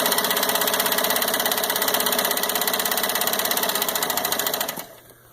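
A Singer Stylist 457 portable zig-zag sewing machine runs its motor with a loud, fast, even mechanical chatter up close, then winds down and stops near the end.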